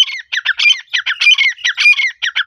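A partridge gives a rapid series of harsh, squawking calls, loud and close, repeating in quick bursts for a couple of seconds.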